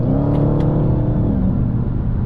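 A 2020 Dodge Challenger SRT Hellcat Widebody accelerates with a loud, close engine roar that climbs steadily in pitch, heard alone.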